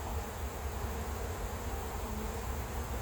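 Honey bees swarm in a dense, steady buzz around a single hive while honey is pulled, the droning hum close and continuous throughout.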